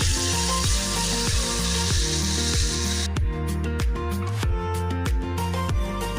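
Water poured into a hot pan of frying potatoes, flat beans and aubergine gives a steady loud hiss for about three seconds, then cuts off, leaving background music playing throughout.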